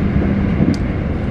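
A KRL commuter train, set TM 6023, rushes past nearby with a loud, continuous rumble and rattle that holds steady, punctuated by a brief high metallic squeal.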